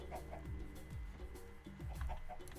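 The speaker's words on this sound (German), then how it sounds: "Oh, hier sind auch Hühner." Chickens clucking in the Minecraft video game, several short repeated clucks with gliding notes, heard alone over a low steady background hum.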